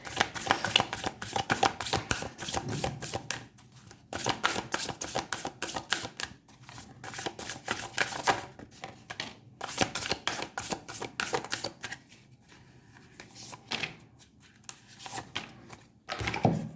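Oracle cards are shuffled by hand in rapid, papery riffling bursts, close and fairly soft, repeating in several rounds over about sixteen seconds with brief pauses between them.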